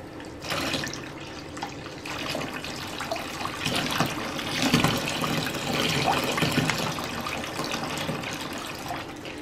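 Water running from a tap into a bath with pink colour-changing bubble bath, a continuous splashing gush with small fluctuations and bubbling, fairly close and steady for several seconds, no talking over it.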